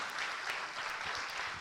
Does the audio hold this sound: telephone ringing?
no